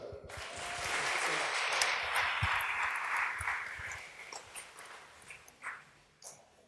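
An audience claps for a conference speaker: a broad wash of applause swells at once, holds for about four seconds, then thins to scattered claps.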